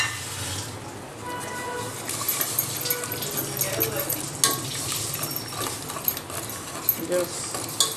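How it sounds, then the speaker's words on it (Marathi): A second cup of water going into a hot pan of sago, giving a soft sizzle and bubbling mixed with stirring and light utensil clatter, close by, with a voice talking over it. "आता आपण दुसरी वाटी पाणी ओततोय"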